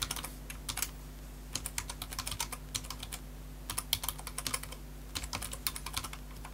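Quick, crisp clicks from a computer keyboard as an email address is typed, coming in bursts with short pauses over a low steady hum, close and clear with no talk.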